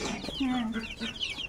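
Native desi chickens cluck on a Bangladeshi poultry farm, giving a run of short, close, mid-pitched clucks and one longer drawn call amid steady farmyard background.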